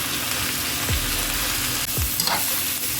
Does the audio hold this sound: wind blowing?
no